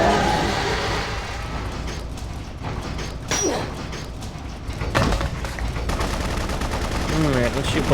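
Rapid bursts of video game gunfire shooting at Beliar, the clattering shots blending with game effects and background sounds in a loud, dense mix.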